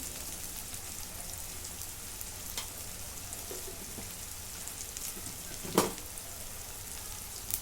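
Tomato paste and homemade onion-garlic masala sizzle quietly in a pan, a soft steady crackle throughout with a couple of brief sharper clicks of stirring.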